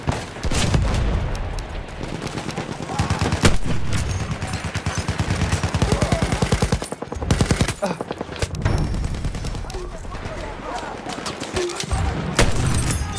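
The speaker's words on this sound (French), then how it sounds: "Attention, mitrailleuse." Dense machine gun fire rattles in fast continuous bursts during a Battlefield 1 firefight, loud and close, with scattered louder shots and blasts mixed in and occasional voices beneath the gunfire.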